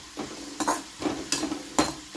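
Grated coconut frying in oil, a quiet sizzle broken by a few spaced scraping strokes of a spatula stirring the pan.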